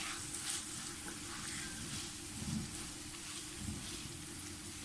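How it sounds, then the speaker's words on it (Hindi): Onions fry in a pan for moong dal, giving a soft continuous sizzle with faint scraping stir sounds underneath, fairly quiet and close, with no voices. "प्याज फ्राई करें अच्छी तरह।"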